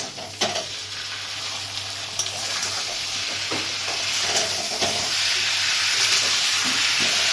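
Spices sizzle and fry in hot oil with tomato paste for a thin meat curry, a steady close crackle with occasional stirring scrapes throughout.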